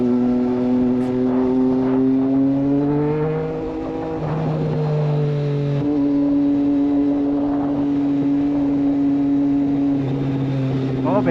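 Triumph Street Triple RS motorcycle with a Racefit exhaust ridden on the road, its engine note rising and falling through gear changes with a raw, loud, close drone and throttle blips.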